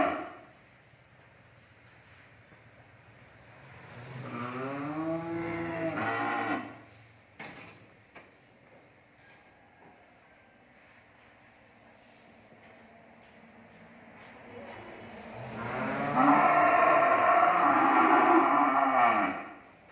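Cattle on a cattle farm low in long, drawn-out moos, one lasting a few seconds and then a louder, longer one after a quiet stretch, with faint farm background noise between them.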